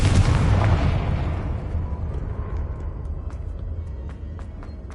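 A Confringo blasting spell explodes in the game Hogwarts Legacy with a loud, close boom that rumbles and slowly decays, followed by faint scattered crackles.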